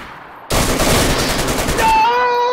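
Gunfire from a weapon in a video game, a sudden loud burst of rapid shots that rattles on, then a bright ringing tone that lingers at the end. The sound is close and dense.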